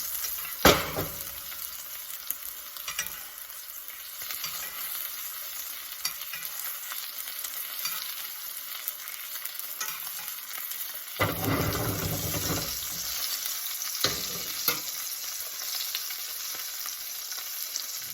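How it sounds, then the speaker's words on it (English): A steak sears in butter and oil in a hot pan with a constant bright sizzle, while a spoon scrapes and splashes as the fat is basted over the top in occasional louder bursts. "So you take a spoon, get some of the butter and oil, and you just baste it over the top."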